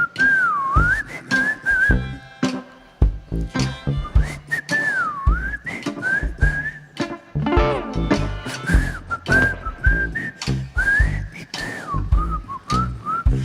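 Someone whistles a lilting tune at a live band performance at Dee's, the bright melody running continuously over busy instrumental accompaniment and percussive hits.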